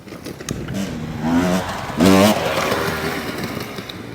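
An enduro motorcycle at the Bergama enduro race revs hard under throttle, its engine note climbing in two loud rising surges over a steady, noisy running drone.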